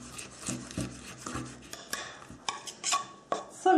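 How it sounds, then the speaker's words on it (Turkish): Garlic being finely chopped with a knife on a board gives a quiet, irregular series of close taps and scraping rubs that grow a little sharper toward the end, with no talking. "Bunları da ince kıyıyoruz."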